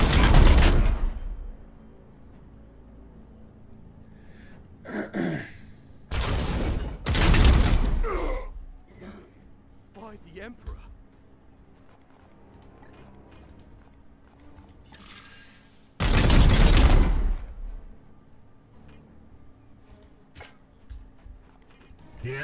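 Several loud, separate bursts of heavy gunfire ring out in Warhammer 40k: Chaos Gate - Daemonhunters, with mechanical clanks and softer clicks in the quieter stretches between them.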